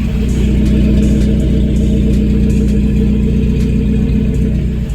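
A Chevrolet S10 minitruck engine runs steadily at close range, a loud continuous low rumble with slight revving swells throughout and no voices.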